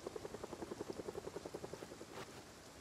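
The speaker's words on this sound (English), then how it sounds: "Oh freak, it's the helicopter!" A helicopter in the survival video game Project Zomboid chops overhead, its rotor beating in a fast, even pulse that fades near the end, faint and with no voices.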